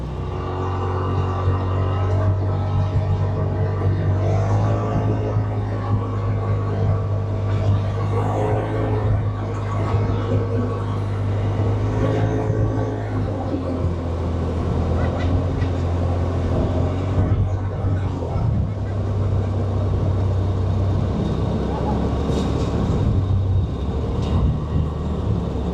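A Polaris RZR side-by-side fitted with a StarKnight MT cab enclosure cruising at speed, a steady loud engine drone and road rumble with wind rush filling the cabin, continuous throughout with faint voices underneath.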